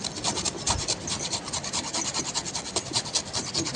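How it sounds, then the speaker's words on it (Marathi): Fresh, unpeeled ginger is rubbed against a hand grater in quick, continuous rasping strokes, close and steady, with no talking over it. "त्याच्यामध्ये आपण सगळं आलं किसून घेऊया"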